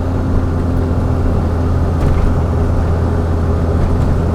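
A diesel engine with a Bosch VE injection pump lugs at 2400 rpm in third gear as the throttle opens, making a loud, steady, low rumbling drone with no talk over it.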